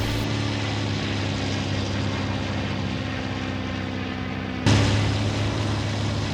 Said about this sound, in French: J'arrache l'avion du sol.